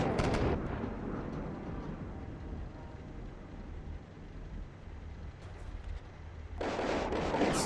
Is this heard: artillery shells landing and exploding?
yes